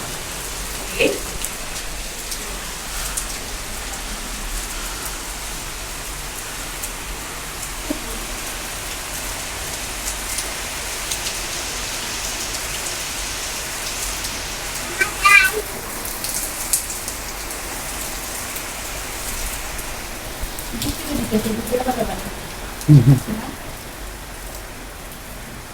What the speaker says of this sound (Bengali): বৃষ্টি অলরেডি চালু হয়ে গেছে এখানে থাকলে ভিজে যাবো